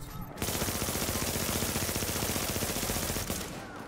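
Shotgun fire in a video game: a loud, sustained volley of rapid blasts crackling continuously for about three seconds, starting abruptly after a brief quiet moment and tapering at the end.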